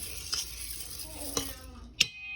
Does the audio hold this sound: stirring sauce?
yes